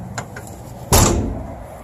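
A heavy baggage door on a Riverstone 39RBFL fifth wheel RV slams shut with a single loud, close thud that rings out briefly. A couple of faint clicks come before it.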